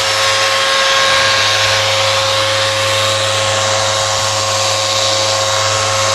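Random orbit sander running steadily at high speed, a loud continuous whining drone with no breaks throughout.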